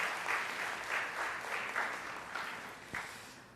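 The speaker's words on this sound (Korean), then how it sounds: "우리 박수로 환영하겠습니다." A church congregation applauds during a Sunday service, moderate clapping in soft, uneven waves that rises and eases across the moment, with a single sharper knock near the end.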